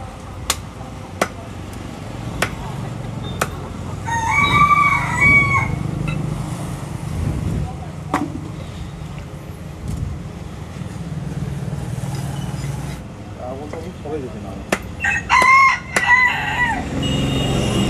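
Chickens at a desi chicken cutting shop in Kalahandi cluck, and roosters crow twice in loud, drawn-out calls. Sharp knocks, like a cleaver striking a board, recur through a busy background murmur.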